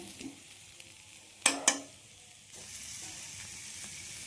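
A soft, steady sizzle of spices frying in a pan, with a couple of sharp clinks partway through and the hiss growing a little fuller toward the end.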